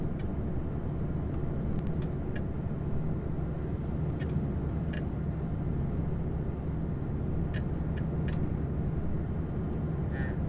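Truck engine droning low and steady in Euro Truck Simulator 2, a continuous rumble at low revs with road noise and a few faint clicks on top.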